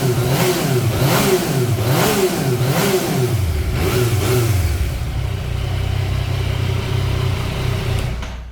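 A Yamaha MT-09 Tracer motorcycle engine is revved several times in quick rising and falling blips, loud and close. It then settles into a smooth, steady idle.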